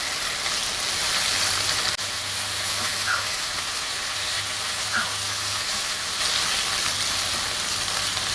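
Onion masala frying in a pan for Kerala-style beef pepper roast, a steady close sizzle and hiss running throughout with faint clinks of stirring.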